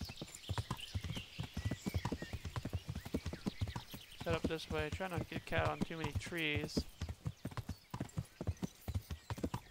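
Horse hooves clip-clop steadily through a medieval video game as a rider heads past trees, with someone talking over the hoofbeats throughout.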